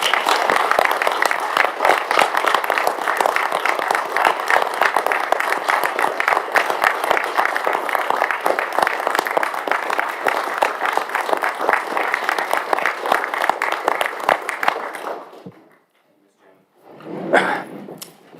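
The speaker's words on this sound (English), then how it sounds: "I would like to invite you all to stand and give a round of applause" A council chamber audience giving a sustained round of applause during an annual council meeting, a dense even clatter of many hands that carries on steadily before stopping abruptly, followed by a brief short burst.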